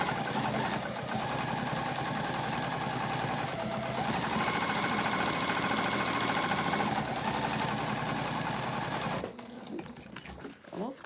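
Sewing machine basting two fabric layers together at a 1/8 inch seam allowance for a bowler bag, a loud, close, rapid mechanical stitching chatter running continuously for about nine seconds before stopping.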